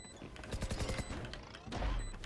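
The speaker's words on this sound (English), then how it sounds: "Placing swarm grenade." Swarm grenade bursting in Valorant: a rapid, close string of sharp popping blasts with a heavier low thump near the end, loud and dense over game sounds.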